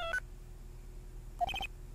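A phone ringtone from the video game Ace Attorney: Justice for All plays as short electronic beeping bursts, one brief chirp followed by a pause and then a quick run of repeated tones.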